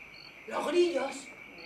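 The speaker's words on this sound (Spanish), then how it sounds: "¡Los grillos!" Crickets chirping at night in a stage production of Bodas de Sangre, a faint high steady trill under a short burst of voice in the middle of the clip.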